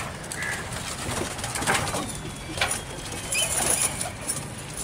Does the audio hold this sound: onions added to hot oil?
no